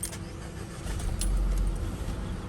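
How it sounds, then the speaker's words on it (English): A Hyundai i30 hatchback being started with its keys from the driver's seat: a jangle of keys, then the engine cranking and settling into a steady, close idle that fills the cabin, with no talking. "and turn the car on."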